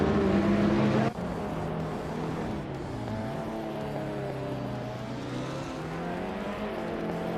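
A Norma M20 FC prototype race car in a racing game, its engine droning loudly with shifting pitch as it accelerates and changes gear, a sharp drop in tone early on, continuous and close.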